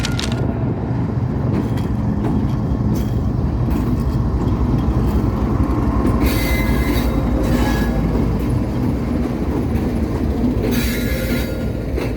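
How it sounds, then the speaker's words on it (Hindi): The 42 Down Karakoram Express rolling into Hyderabad Junction, a loud continuous rumble of railcars close by with a steady clatter of wheels and two bursts of high metallic wheel squeal. "ये आ रही है हैदराबाद जंक्शन पे 42 डाउन कराकरम एक्सप्रेस"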